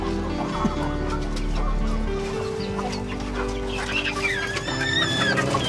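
Chickens on a small farm, a rooster and hens, cluck and call close by in irregular bursts over a steady low rumble, with some higher squawking calls toward the end.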